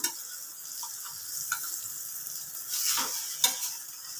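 Food sautéing and being stirred in a pan, with a steady close sizzle and scattered scraping clicks of the spoon, two sharper knocks standing out, no voices.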